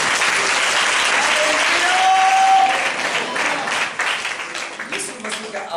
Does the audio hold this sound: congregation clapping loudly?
yes